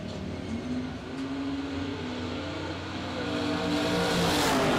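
Drag racing cars, an Oldsmobile among them, roar down the strip at a drag racing event, a sustained loud engine drone that swells and rises in pitch toward the end.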